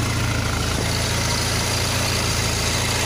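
A car engine fitted with a Bosch 602 TBI throttle-body actuator idles steadily with a low, even rumble that stays constant throughout, with no talking.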